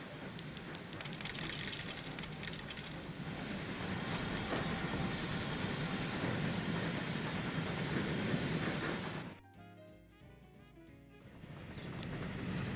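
Express steam train in Transport Fever 2 rolls along the rails with a steady, dense rumble and rattling wheel noise, loud and close throughout before dropping away abruptly near the end.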